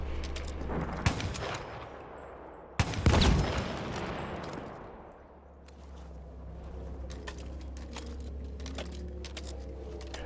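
An anti-aircraft gun firing in the Battlefield 1 game, with a burst of sharp booming shots early on and then a rumbling engine-like drone with scattered smaller impacts, no speech.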